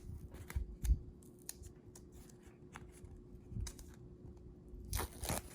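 A backing sheet peels and crinkles away from a budget picture-frame accessory, with scratchy tearing bursts and paper rustles up close, ending in a louder ripping flurry.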